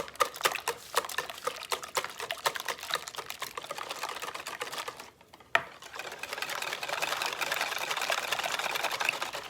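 A whisk beats bread pudding custard for strawberries and cream pudding until frothy, a rapid rhythmic clicking against the bowl, close and fairly quiet, briefly pausing mid-way before a steadier wet churning resumes.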